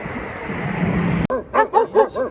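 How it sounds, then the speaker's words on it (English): Dogs barking outdoors, a quick series of four or five loud, close barks in a rhythmic burst after a stretch of wind-like rushing noise. "Where are the dogs? Oh, there they are."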